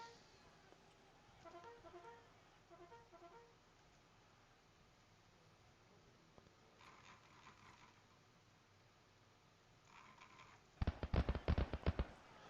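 Musket volleys in the Grand Tactician Civil War strategy video game, faint crackling at first and then a loud ragged burst of rapid shots near the end, no talk.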